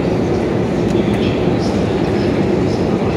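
Steady loud rumble and rattle inside a moving subway car, a continuous low roar with faint clicking from the wheels.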